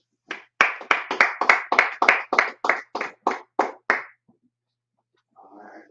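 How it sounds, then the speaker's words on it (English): About fourteen sharp, evenly spaced claps ring out in a quick rhythm, close and loud, then stop abruptly, followed by brief silence and a faint murmur. "Clap it up."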